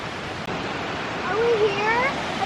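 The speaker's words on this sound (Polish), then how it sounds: "zobacz jaki piękny wodospad przed nami" A waterfall roars as a steady broadband rush of falling water along a cold mountain stream, fairly loud and constant, with a faint whistle-like tone drifting over it partway through.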